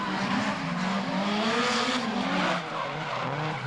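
Drift cars doing switchbacks at Sydney Motorsport Park during a drift series round, engines roaring loud and close with sustained tyre squeal and skidding, the pitch rising and falling as the cars swing through the transitions.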